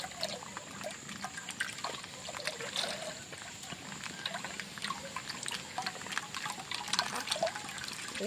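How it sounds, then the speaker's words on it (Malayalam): About a litre of cooking oil trickles quietly and steadily into a large bronze pan, in preparation for a giant nei pathiri, with a soft, continuous liquid patter and no talking. "ഏകദേശം ഒരു ലിറ്റർ എണ്ണ ഞാൻ ഒഴിച്ചിട്ടുണ്ട് കേട്ടോ"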